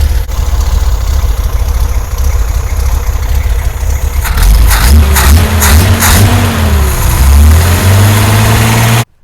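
A 1973 Datsun 240Z engine fitted with dual 32/36 DGV Weber carburetors idles close by: a steady low rumble that turns into a clear tonal drone midway, with the engine note shifting up and down.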